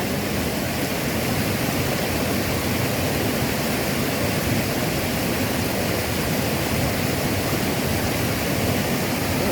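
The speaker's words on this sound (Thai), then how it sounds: "ได้ยินได้เสียงน้ำไหลน้ำตกนะพี่น้อง" Water rushes steadily in a river swollen by heavy rain, where a cast net is being thrown, with loud, unbroken broadband roaring and no voices.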